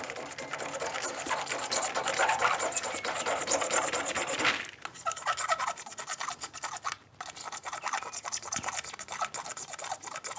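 A knife blade scrapes steadily across the plastic body of a lighter, a close, continuous raspy filing sound with brief pauses and changes in stroke.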